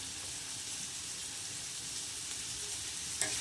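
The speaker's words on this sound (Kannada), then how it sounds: "ಇವಾಗ ಚೆನ್ನಾಗಿ ಫ್ರೈ ಆಗ್ತಾಯಿದೆ ಅದು." Food for pasta fries in a pan with a steady, close, broadband sizzle and hiss, continuous throughout, with a small clink near the end.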